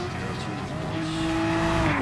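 Race car engines in GT Sport at Interlagos howl steadily with a rising tonal whine, loud and continuous as cars run close together, with faint tire squeal mixed in.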